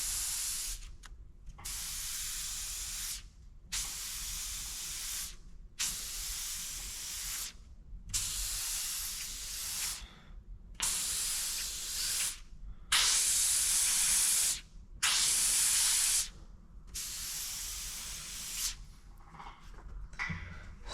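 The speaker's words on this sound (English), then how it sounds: "So I need a little bit of this overspray to kind of patch in and block off this really dark gray that this vehicle is." An airbrush sprays paint in a series of bursts, each a steady close hiss lasting a second or two and separated by short silent gaps, repeating for the whole stretch.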